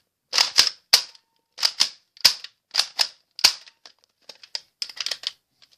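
Nerf blaster firing darts close up: a series of sharp plastic snaps and clacks in irregular bursts, loud and near, with quieter clicks near the end.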